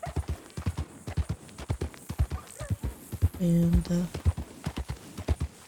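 Hooves of a Kentucky Saddler horse clip-clop in a steady gallop rhythm within Red Dead Redemption 2, with a short loud whinny partway through and someone briefly talking over it.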